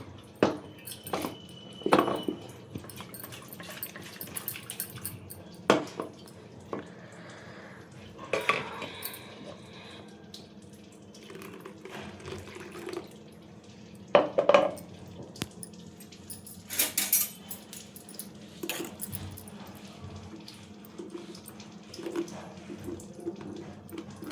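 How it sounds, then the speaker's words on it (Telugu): Water sloshes and rattles inside a container amid clinks of dishes and utensils, with scattered drips over a long stretch, close and moderately quiet. "కొంచెం దీంట్లో వాటర్ వేసేసి దీన్ని షేక్ చేసేసి వేసుకున్నాం"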